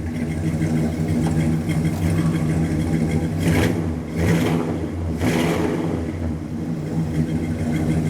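An old Dodge Monaco engine idles steadily with a low, throbbing hum, then revs up in a few quick surges before settling back to idle.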